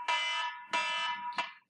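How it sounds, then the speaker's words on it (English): A stock price alert alarm sounds three times in quick succession, each a loud, bright electronic buzz-tone, the last one shorter, with no talk over it. "Sorry, I got some alarms going off on the stocks."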